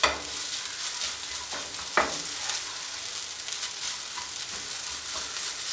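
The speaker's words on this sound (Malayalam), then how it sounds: "ഇനി എല്ലാം കൂടെ മിക്സ് ചെയ്തെടുക്കുക." Carrot and egg thoran fries in a pan while being mixed, a steady close sizzle with occasional scraping stirs of the spoon against the pan.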